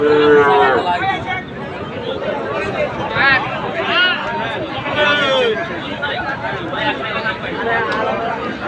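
Several crossbred calves at a crowded rural livestock market give short, scattered moos amid steady chatter and someone speaking over the market bustle.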